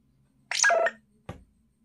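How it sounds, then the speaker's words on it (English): A short electronic ringtone from a Nothing Phone 1 plays, a bright burst of synthetic tones lasting about half a second, followed by a single brief click-like tone in a quiet room. "So you can have that ringtone over here."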